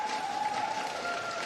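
A crowd applauds and cheers just before the 2025 APO Cup grand final, a brief, dense wash of clapping and noise from many people at a steady level.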